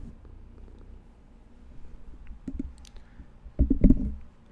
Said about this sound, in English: We can hear some purring